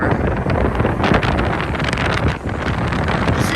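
Strong wind buffets a microphone outdoors near a sandbar by the water, a loud, continuous rushing roar with gusty swells and no speech.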